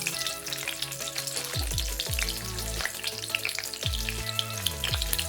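Broken green chilli and dried red chilli frying in hot oil for a dhal tempering, a constant close crackling sizzle with low clunks and a few falling tonal sweeps in the background, no speech.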